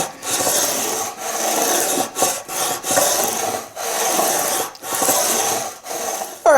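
A guitar's frets are leveled by rubbing off Sharpie marker. A steady, fairly close rasping scrape repeats in back-and-forth strokes with short pauses between them and no talking.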